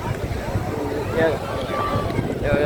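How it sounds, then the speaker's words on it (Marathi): A cool wind blows by the sea in Goa, a steady gusty rush buffeting the microphone, with waves washing and faint crowd voices underneath. "हवा तर लय मस्त सुटली एकदम थंडी गार हवा"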